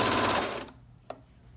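A serger sewing machine stitches knit fabric along the front of joggers for a brief burst, then stops, followed by a small click in near silence.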